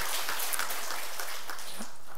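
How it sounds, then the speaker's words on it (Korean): A church congregation gives sustained applause, many hands clapping in a dense, continuous wash for a couple of seconds, fairly loud and close, with no speech over it. "一起鼓掌"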